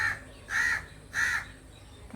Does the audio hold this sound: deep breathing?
no